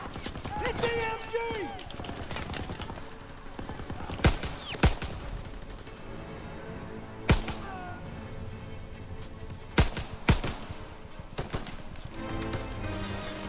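Bursts of machine gun fire from a Call of Duty campaign battle around a hayloft, coming in sharp loud volleys spread across the scene, with shouting voices and a horse whinnying early on under ongoing gunfire and battlefield noise.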